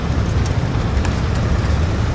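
Engine rumble and road noise of a car in the Battlefield video game, a steady low roar throughout with a few brief sharper clanks, no talk.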